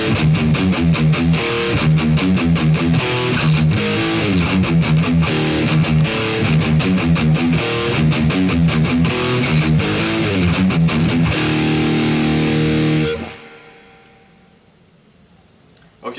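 Slow, loud distorted electric guitar runs through a full riff figure, chords shifting in steady rhythm for about thirteen seconds before ringing out and fading to near silence.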